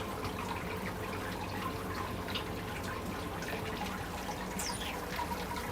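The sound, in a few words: water trickling during sparging of grain in home brewing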